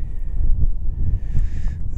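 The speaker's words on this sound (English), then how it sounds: "It's certainly windy." Strong wind on open moorland buffets the microphone in heavy low rumbling gusts, loud and continuous, with faint higher tones drifting above.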